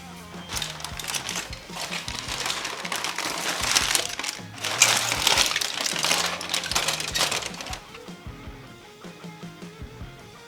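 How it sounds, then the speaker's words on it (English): Crinkling, rustling wrapping is peeled back from a tray of cherry cola pork belly burnt ends at close range, a dense, continuous crackle that eases off toward the end. "But let's unwrap this and see what we're dealing with."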